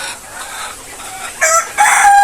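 Desi chickens on a small egg farm cluck in short bursts, near and fairly loud over a quiet background.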